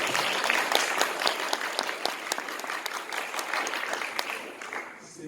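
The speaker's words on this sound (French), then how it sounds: "Donc vous pouvez l'applaudir s'il vous plaît." Audience applause fills a conference hall at the opening of a meeting of the Institut Renaudot in Bourges, steady dense clapping from a large crowd that holds for several seconds and then eases slightly at the end.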